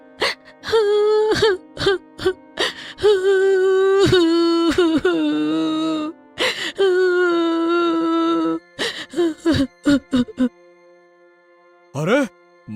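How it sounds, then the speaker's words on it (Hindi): A girl cries loudly in repeated wailing sobs, broken by gasps and short pauses, close and emotional. "तभी उन्हें किसी लड़की के जोर जोर से रोने की आवाज आने लगी।"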